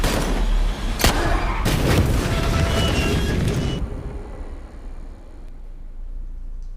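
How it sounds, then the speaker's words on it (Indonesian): A dense, roaring barrage of gunfire and booms, with sharp cracks in the first seconds before the noise gives way to a lower rumble. "Ia memberikan tembakan ke arah John secara membabi buta"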